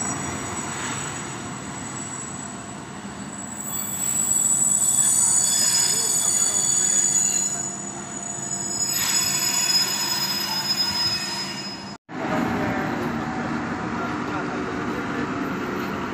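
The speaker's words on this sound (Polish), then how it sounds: "No i po dłuższej przerwie wjeżdża motorak." A diesel railcar pulls into Zvolen Osobná station, its wheels giving off sustained high-pitched squeals over a steady rolling rumble that rises and falls before stopping abruptly.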